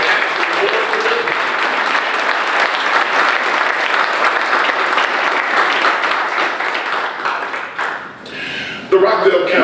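A large audience at a State of the County session gives its chief operating officer a loud, sustained round of applause that holds steady before tapering off, with a voice starting up at the end.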